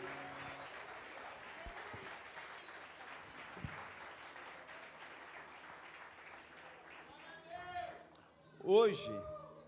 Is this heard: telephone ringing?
no